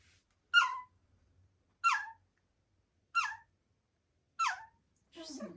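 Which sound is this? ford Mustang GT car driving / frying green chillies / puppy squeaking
puppy squeaking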